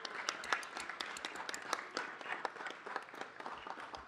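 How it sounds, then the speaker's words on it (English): A council chamber audience applauds an Assembly Member at a city council meeting: a fairly faint, steady patter of many hands clapping for about four seconds, with a few voices mixed in. "Let's give him a big round of applause."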